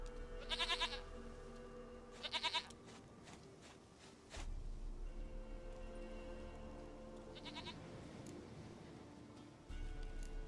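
A goat in the video game The Witcher 3 bleats in a few short, quavering bursts spaced apart, moderately close, amid low ambient rumble and soft footsteps.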